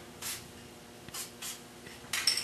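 Short bursts of lubricant spray hit bicycle brake pivots shielded with rags, several quick hisses spaced apart, close and fairly quiet.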